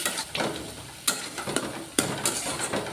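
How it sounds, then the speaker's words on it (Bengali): Spice masala with cumin, chili powder and kasuri methi is stir-fried for a young jackfruit kofta curry, heard as repeated sharp spatula scrapes and strikes against the pan over a faint sizzle. "দিয়ে এটাকে এবার মশলাটাকে ভালো করে কষিয়ে নেব।"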